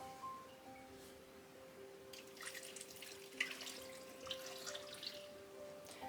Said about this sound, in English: I'm going to get some more water here.